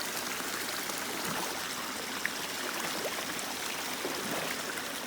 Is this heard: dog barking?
no